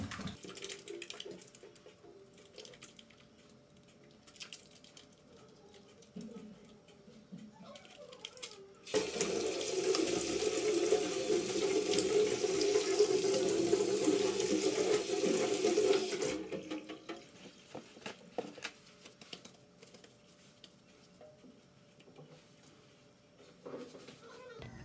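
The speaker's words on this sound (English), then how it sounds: "Wash my hands." Tap water runs steadily into a sink as hands are washed, a loud continuous splashing rush lasting several seconds before shutting off, with quieter room sounds before and after.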